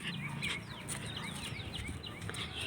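Chickens cluck and chirp in a temple's poultry slaughter area at a Mariamman shrine, several birds calling in short overlapping bursts against a steady, busy background hum.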